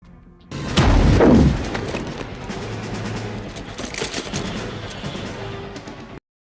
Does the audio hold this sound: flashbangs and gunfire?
yes